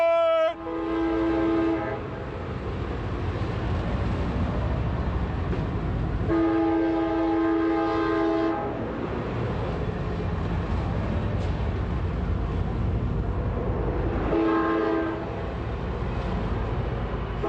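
A passenger train departs Hanford station, sounding three long horn blasts over a steady, loud rumble of rolling cars that continues throughout.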